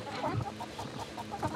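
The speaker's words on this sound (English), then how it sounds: "Right, how are chickens doing? Got any fresh eggs for me?" Chickens cluck repeatedly in a farmyard coop, a steady run of close, mid-loud clucks with no talking over them.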